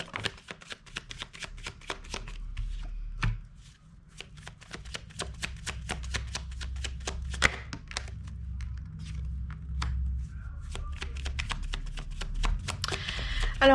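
Tarot-style cards being shuffled for a card reading, a long run of crisp riffling flicks and soft slaps at close range, steady and continuous with no talk over it.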